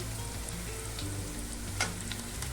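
Onion and nigella seeds fry in hot oil in a pan for a prawn and kochur loti dish, giving a steady close sizzle with a few soft stirring scrapes and no talking.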